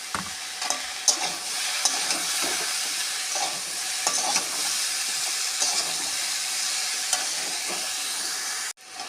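Soybean chunks dropped into a pan of frying vegetables including potato, ridge gourd, carrot, peas and pumpkin, a constant loud sizzle with scraping stirs and small clatters, ending in a sudden brief cutoff.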